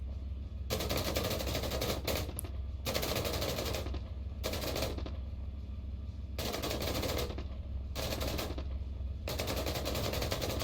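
Sustained rapid automatic machine-gun fire in a tank video game, in bursts separated by short pauses, loud and continuous over a low rumble.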